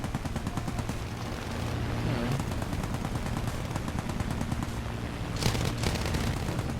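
Continuous rapid machine-gun fire in War Thunder, with the guns of the new Mosquito aircraft rattling steadily over a droning engine, and a louder burst near the end; no talk during the firing.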